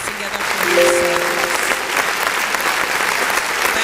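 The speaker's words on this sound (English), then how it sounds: "Please give me that round of applause." Loud, sustained applause from a conference audience fills the hall, with a brief whistle-like tone near the start and faint voices mixed beneath the clapping.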